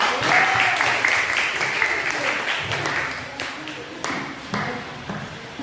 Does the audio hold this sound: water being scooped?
no